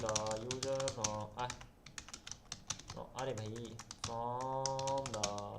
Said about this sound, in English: I don't even need to focus on my typing that much.